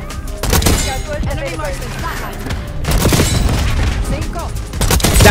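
Sniper rifle shots from Black Ops 6 ring out in sharp, loud cracks, a couple of distinct bursts separated by quieter stretches of game noise.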